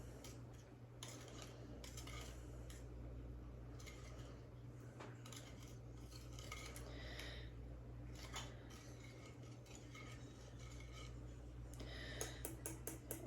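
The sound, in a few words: stirring pan dulce yeast mixture in a bowl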